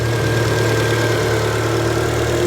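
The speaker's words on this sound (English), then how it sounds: "It finally idles properly." A 1999 Mitsubishi Eclipse GSX engine idling: a loud, steady, even drone with a low hum and a faint high whine, running alone without talk throughout.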